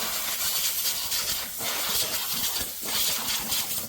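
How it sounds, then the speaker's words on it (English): Compressed air blasts hiss loudly under a Honda lawn mower, a rough, broadband rush that surges in several long bursts with brief dips between them, close to the microphone. "we've got the compressed air here, it's a good idea just to give it a bit of a blow underneath"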